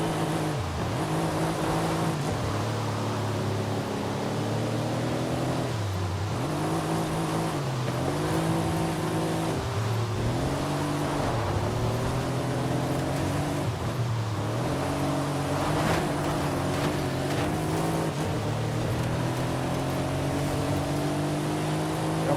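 Race car engine held at full throttle in Forza Horizon 5, a loud continuous roar that climbs through the revs, dips briefly at each gear shift and pulls up again, repeating over many shifts.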